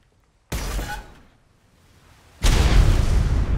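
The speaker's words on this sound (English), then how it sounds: "So the weird thing about the torpedo is it shoots like a cannon." In the video game Atlas, a submarine torpedo fires with a sudden booming, cannon-like shot that rings out and decays, followed by a loud, rumbling explosion that carries on to the end.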